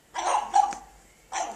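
A small puppy barking indoors inside a house: two quick high yaps close together, a pause, then a third bark, near and clear.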